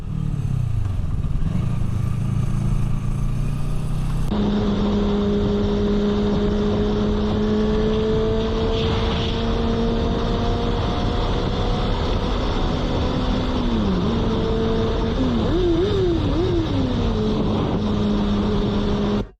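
A loud motorcycle engine drones continuously, then rises and falls in pitch through several quick revs toward the end, with rattling noise throughout.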